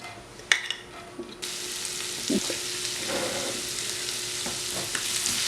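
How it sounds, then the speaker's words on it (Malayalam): Ginger and garlic drop into hot oil, setting off a sudden loud sizzle that holds steady, with a few faint stirring scrapes and clinks in the pan. "അതിലേക്ക് നമ്മളിവിടെ എടുത്തു വെച്ചിരിക്കുന്ന ഇഞ്ചി വെളുത്തുള്ളി ഇട്ട് കൊടുക്കുക."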